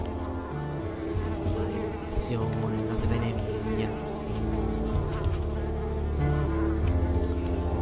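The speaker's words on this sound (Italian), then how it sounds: "Qua ci sono zanzare. Oh, le zanzare." Mosquitoes buzz in a swamp in the video game Unravel, a continuous whining drone that rises and falls as they swirl around, with someone talking over it.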